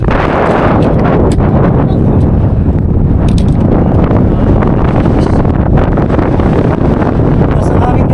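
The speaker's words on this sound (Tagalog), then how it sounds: "Napakalakas ng hangin dito." Strong wind blasts the microphone on the summit of Yeongchuksan mountain, South Korea, in a relentless, loud roar with heavy low rumbling and brief gust peaks.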